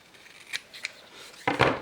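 Scissors snipping through paper rectangles: a few short, crisp cuts, with a louder, fuller double snip near the end, close by and with no talk.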